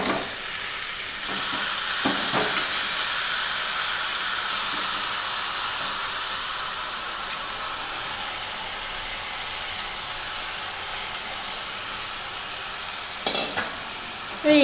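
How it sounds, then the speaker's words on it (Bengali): Boiled taro and dried fish are stirred together in a frying pan, giving a steady hissing sizzle with a few faint scrapes of the spoon, with no talking. "এটাকে একসাথে এটাকে ভালোভাবে নাড়িয়ে নেব"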